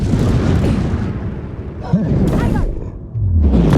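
A fiery explosion spell bursts in the Hogwarts Legacy video game amid heavy rumbling combat noise, with a louder boom near the end and a voice shouting in between.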